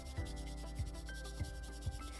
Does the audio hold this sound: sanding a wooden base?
yes